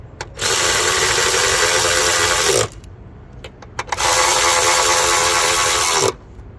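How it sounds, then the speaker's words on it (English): A power ratchet tightens the screws on a Chevy throttle pedal position sensor, whirring loudly in two long bursts of a few seconds each, with brief clicks and handling noises between them. "tighten all the screws down"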